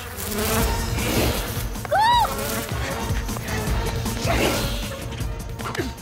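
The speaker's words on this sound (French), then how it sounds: "Mes guêpes, à l'attaque!" A cartoon swarm of wasps buzzes loudly in attack, a dense droning hum mixed with whooshes and impact hits, one rising whistle-like tone midway, all close and energetic.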